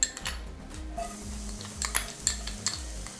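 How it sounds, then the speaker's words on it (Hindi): Chopped garlic going into hot oil in a pan, with metal utensil clinks and scraping over a soft sizzle, close and without talk. "सबसे पहले डालेंगे हम चॉप गार्लिक"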